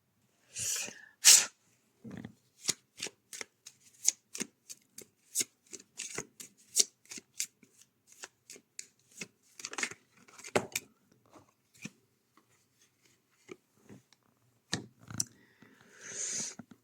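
Tarot cards being shuffled and handled up close, giving a series of sharp, papery snaps and riffles in an irregular rhythm, with brief pauses and a longer flurry at the end.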